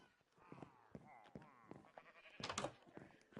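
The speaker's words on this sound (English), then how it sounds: "We got the rainbow sheep up in here." Rainbow sheep in the game Minecraft let out several faint, quavering bleats in quick succession, soft and close, with a brief louder burst partway through.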